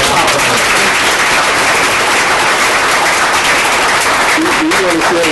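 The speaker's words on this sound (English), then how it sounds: "Let's give them a round of applause" A board meeting audience gives a round of applause, loud continuous clapping throughout with crowd noise, a few voices briefly audible near the end.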